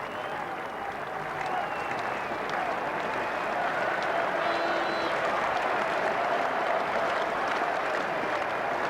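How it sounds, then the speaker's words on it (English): A cricket crowd at a 1994 Benson & Hedges Cup final applauds a half-century partnership, broad sustained clapping filling the ground evenly, with a commentator's voice faintly underneath. "The applause round the ground for the half-century partnership"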